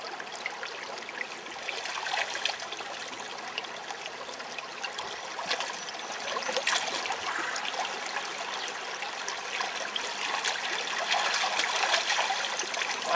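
Creek water trickles and burbles steadily while watercress is picked, a continuous close, gentle flow with no voices.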